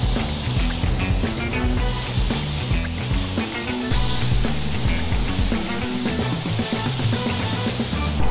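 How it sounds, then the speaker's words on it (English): A spray gun lays yellow base coat paint onto an off-road vehicle, producing a continuous close hiss of atomized paint, with what sounds like rhythmic music playing alongside. "We're gonna go mix up some yellow, get that in the sprayer."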